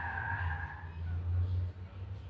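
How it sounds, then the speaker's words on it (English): Tires screech outside a house, a sustained squeal heard at a distance over a low rumble, lasting a couple of seconds. "We got tires screeching outside."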